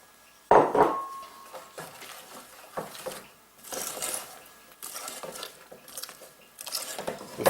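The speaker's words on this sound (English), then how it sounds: "We're going to add the flour, just to thicken it up a little bit," A spoon stirs flour into Bakewell tart filling in a bowl, with a sharp clatter at the start, then intermittent scraping and knocking strokes that rise and fall.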